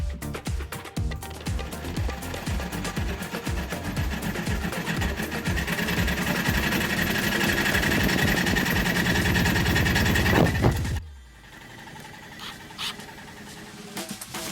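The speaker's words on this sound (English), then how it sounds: "I'm using a jigsaw with a metal blade, going relatively slowly" A jigsaw fitted with a metal blade cuts slowly through an intercooler mount on a Nissan S12, buzzing in a loud rapid chatter for about eleven seconds before stopping abruptly, leaving quieter clicks and handling noises.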